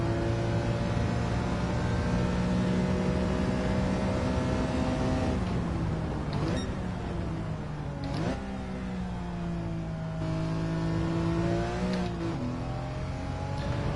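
A race car engine in Gran Turismo 7 drones loudly at high revs, holding steady pitch with several sharp gear changes and dips as it accelerates and eases through corners, continuous and close.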